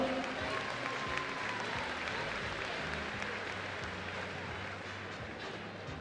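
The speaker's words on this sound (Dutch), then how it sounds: "Misschien nog één keer voor die fokkers en eigenaren een geweldig applaus." Sustained crowd applause for horse breeders and owners at a 2018 stallion inspection, an even, continuous roar of many hands clapping at a steady level throughout, with faint voices mixed in.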